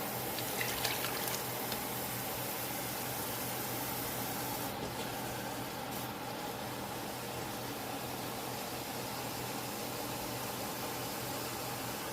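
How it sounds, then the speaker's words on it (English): Hot water poured into a cooking pot gives a steady, close hiss and rush that runs unbroken for several seconds at moderate loudness, with no talking. "I'm going to start adding my water, and I'm adding it really hot."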